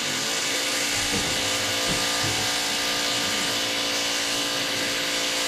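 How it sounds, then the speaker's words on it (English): A construction drill bores holes inside a factory building, giving a steady, loud, high-pitched whine that runs without a break and drowns out everything else. "my factory is also under construction, so it's every time they're just drilling the hole"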